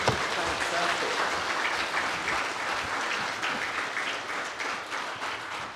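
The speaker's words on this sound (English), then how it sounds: "Give our Kapahaka group a wonderful round of applause again, just as they're leaving" A school senior prizegiving audience gives a Kapahaka group a steady, full round of applause as the performers leave. The clapping is dense and even and lasts the whole stretch.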